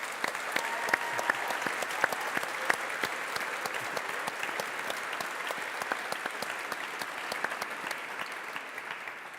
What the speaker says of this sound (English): let's give a big round of applause to all of our partners